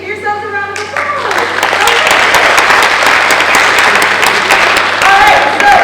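Audience applause from a crowd at a fitness and wellness panel at San Diego Comic Con rises after a second into dense, sustained clapping that fills the room and carries loudly to the end.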